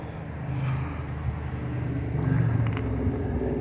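Passing car traffic near a parked 1957 Chevy Bel Air on a late afternoon, a steady low engine rumble swelling slightly as vehicles go by, with no talking.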